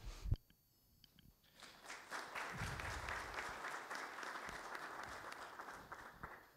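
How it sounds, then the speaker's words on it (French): An audience at a French business breakfast on logistics performance applauds: after a brief thump and near silence, clapping swells within about a second and carries on thick and steady to the end, moderately loud and without talk. "Applaudissements mérités."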